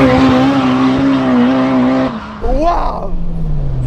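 A Fiat Uno Turbo fitted with a 420 hp engine running 2.5 bar of boost pulls hard, a loud, close, sustained engine drone that breaks off briefly, then climbs again in a rising sweep.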